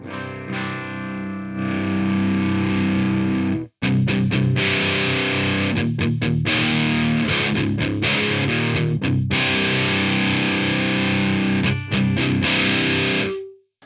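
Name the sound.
guitar through Coolmusic Crunchy distortion pedal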